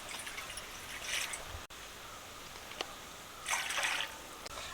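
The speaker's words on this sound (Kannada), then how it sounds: "ನಾನು 4 ಲೋಟ ಹಾಕ್ಕಿಂತ ಇದ್ದೀನಿ ನೀರ" Water being poured to make kokum juice gives a faint, close trickling and splashing in short bursts over quiet room noise, with a sharp clink partway through.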